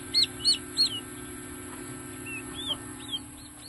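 A black Japanese Shamo chicken gives a few short clucks, close and fairly loud at first, then quieter clucks over a steady background hum.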